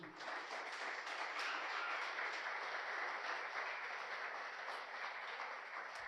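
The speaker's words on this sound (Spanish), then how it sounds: "Denle un fuerte aplauso al Señor." Congregation applauding during a church sermon, a steady, dense wash of clapping sustained at even loudness throughout, somewhat distant and without talk.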